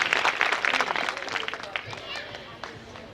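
Devotees at a kalash yatra procession in Budh Vihar, Delhi, break into loud applause that is dense at first, then thins into scattered claps and fades.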